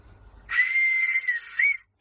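A single sustained whistle sounds close and clear after a brief quiet, holding one bright steady pitch for over a second before a slight upward flick and an abrupt stop.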